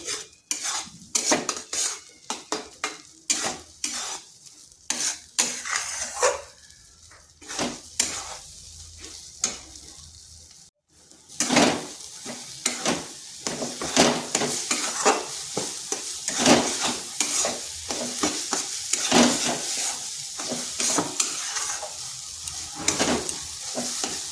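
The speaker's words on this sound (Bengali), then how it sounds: "ডিমগুলো এইভাবে বেশ ঝুরি ঝুরি করে ভাজা করে নিচ্ছি।" Three eggs are scrambled into crumbly bits and fried in a pan, with busy spatula scraping and clinks against metal over a constant sizzle, loud and close, pausing briefly midway before resuming.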